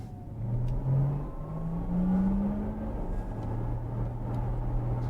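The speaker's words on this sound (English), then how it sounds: "Just all that whining and noise going on at the back is just, I really like it." A Porsche Taycan Turbo electric car accelerates hard, its motors producing a rising whine over a steady drive hum that climbs in pitch and then settles, loud and close, without talk.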